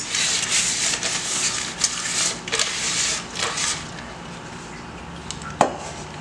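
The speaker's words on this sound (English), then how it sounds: "So I have some butter here, and I'm just gonna grease." Butter rubbed around the inside of a cake pan for a sponge cake, a steady scraping, smearing texture close up with a few soft knocks and one sharp tap near the end.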